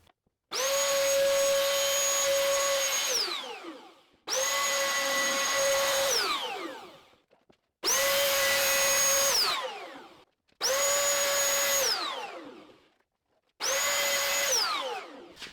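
Power tool rounding over the edges of a wooden plant stand, five loud whining bursts each a couple of seconds long, spinning up and winding down with short pauses between, no talk.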